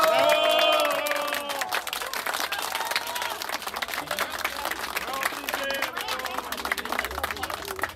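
Crowd applause and cheering at a quinceañera celebration, a dense wash of clapping from a large gathering, loudest at the start and sustained throughout, with scattered voices and music mixed in.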